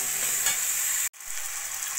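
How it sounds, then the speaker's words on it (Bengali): Chopped tomato, onion and green chili frying in hot oil, a steady close sizzle broken by a brief stir before the hiss resumes. "এবার টমেটো পেঁয়াজ কাঁচা লঙ্কাটাকে ভাজা ভাজা করে নেব।"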